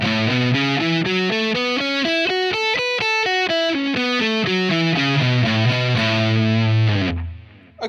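A distorted electric guitar plays a major pentatonic scale up and then back down in steady single notes. It is loud and close with no talking, and the final note rings out before it cuts off.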